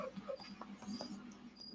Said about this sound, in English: Got a pup here.